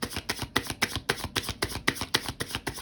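A tarot deck is shuffled by hand at close range, about a dozen crisp, evenly spaced riffling slaps in quick rhythm, with no talking over them.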